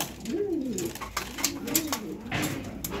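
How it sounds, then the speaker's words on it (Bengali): Pigeons cooing close by in repeated low rolling calls, several overlapping phrases over a steady background with occasional sharp clicks. "এখানে যে দুটো কবুতর আছে"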